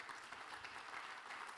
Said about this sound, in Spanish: un aplauso para el caballero.